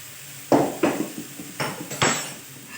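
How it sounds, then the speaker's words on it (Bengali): A metal wok used for cooking bottle gourd is lifted off the stove with several sharp metallic clanks and scrapes, close and fairly loud, spaced irregularly in a quiet kitchen. "এরপর আমি কড়াইটা নামিয়ে দিচ্ছি"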